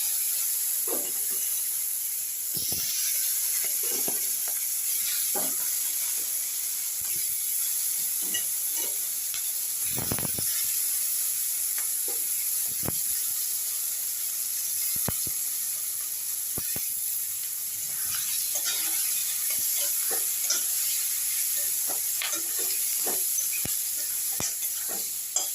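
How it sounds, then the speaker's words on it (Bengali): Onions sizzle steadily in a hot pan while cooking an egg dish, a continuous bright hiss with occasional clinks and scrapes of stirring, no talk. "এখন এর মধ্যে আমি পেঁয়াজগুলোকে দিয়ে দিই।"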